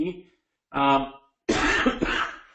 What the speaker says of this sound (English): I'm getting over a lingering cough.